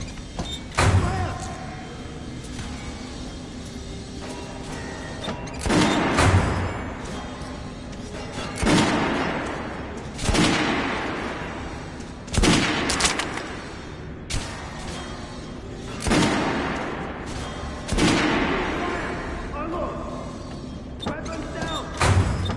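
Volleys of gunfire at a shooting range in the video game Metro Last Light Redux: loud, booming bursts about every few seconds, each followed by a decaying tail, with shouted commands between them.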